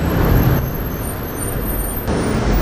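Street traffic passes nearby, with cars and a bus giving a loud, continuous rumble that swells and shifts as vehicles go by, and a brief hiss like an air brake.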